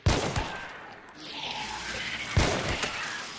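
Two sharp gunshots ring out about two seconds apart in the game Hunt: Showdown, each with a short echoing tail, over a steady low game ambience.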